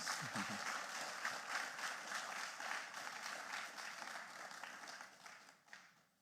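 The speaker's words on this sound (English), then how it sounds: "I think the Vice Chancellor deserves another round of applause." An audience claps after a lecture, a dense, steady applause that holds for several seconds and then tapers off, heard from within a hall with no talking over it.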